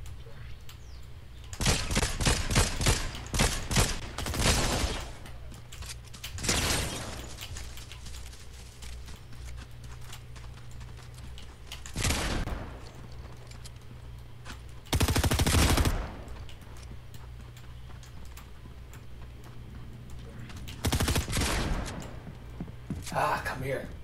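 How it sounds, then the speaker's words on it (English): Gunfire in the game Fortnite: several separate bursts of rapid shots, some close and loud, others thinner, break up stretches of quieter play over about twenty seconds, with background game ambience between them. "I'm getting shot at"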